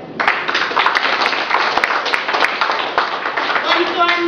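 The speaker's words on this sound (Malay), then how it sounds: "sila beri tepukan." Clapping from an audience of volunteers and their families at a morning health talk, a steady mix of hands heard close and fairly loud, with a voice speaking over it near the end.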